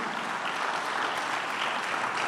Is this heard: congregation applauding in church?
yes